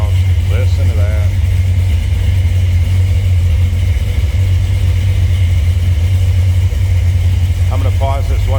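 A 1962 Ford Fairlane two-door post idles close by, its engine giving a loud, deep, steady rumble throughout, with a voice briefly heard near the start and again near the end.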